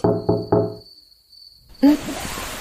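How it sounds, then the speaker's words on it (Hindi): Three quick knocks on a window sound in close succession, followed by a pause with a faint whine and then a burst of noise. "मैं नॉक करता हूँ।"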